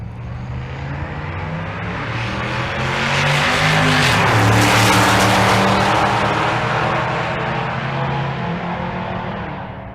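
Drag race cars launching down the strip at Bandimere during Race Week, a loud roaring engine build that swells to a peak mid-way with rising revs, then fades as the cars pull away.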